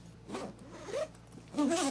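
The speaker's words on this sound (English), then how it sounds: "zip it back closed" Zipper on a ThinkTank Essentials convertible rolling backpack being pulled closed, a few short rasping zip strokes in quick succession, close and fairly soft, with no talk.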